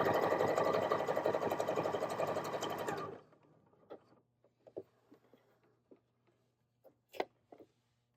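A new JOANN sewing machine stitches fabric, a loud steady mechanical whir running for about three seconds before stopping, followed by quiet handling clicks.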